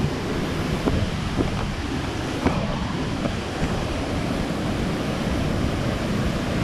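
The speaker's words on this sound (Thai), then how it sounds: "ไปดูวิว แล้วก็ดูน้ำ เสียงน้ำตก สูซาสูซาลงมา" Rushing water of the Li Phi (Somphamit) waterfall on the Mekong in Champasak, Laos, roars as a dense, constant wash of noise, with wind buffeting the microphone and no talking.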